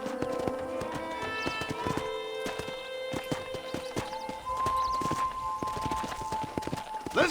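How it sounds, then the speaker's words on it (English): Horse hooves clip-clop steadily on a ranch in the video game Red Dead Redemption, a close, rhythmic walking beat over a bed of steady tonal music with a brief whinny-like accent. "I picked out a fine horse for you."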